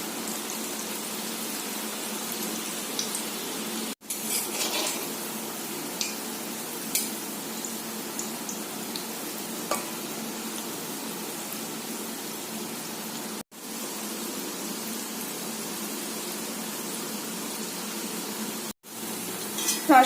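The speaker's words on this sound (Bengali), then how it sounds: "কড়ার মধ্যে সাদা তেল দিয়ে দিয়েছি, তেল গরম হয়ে গেছে। এবার এই যে রসবড়াগুলো ছেড়ে দিচ্ছি" Palm fruit rosbora balls deep-frying in hot white oil in a kadai, a steady soft sizzle and bubbling throughout with a few brief gaps, close and moderately quiet.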